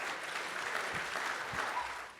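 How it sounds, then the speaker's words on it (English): An audience claps in a steady, sustained round of applause at a startup pitch competition, fairly faint and even throughout with a couple of soft low thumps. "Another round of applause as we..."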